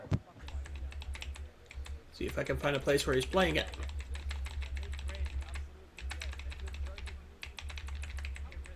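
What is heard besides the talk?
typing on a computer keyboard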